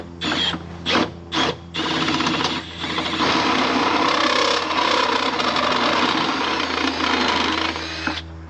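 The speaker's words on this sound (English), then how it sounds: "we're going to use a step bit and drill right through this firewall" A step drill bit cuts through a Honda's steel firewall in a continuous loud grinding whine of about eight seconds, preceded by several short bursts as the drill starts and stops.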